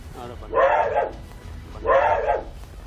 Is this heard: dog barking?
yes